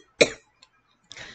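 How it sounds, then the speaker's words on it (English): A person coughs once sharply up close, followed after a short pause by a softer, longer cough or throat-clearing. "See, I'm coughing"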